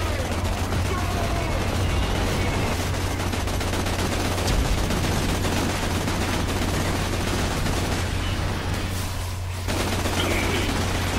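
Relentless gunfire rattles through a firefight in the sci-fi shooter Borderlands: The Pre-Sequel, rapid overlapping shots and bursts forming a dense, loud barrage that briefly thins near the end, with voices talking underneath.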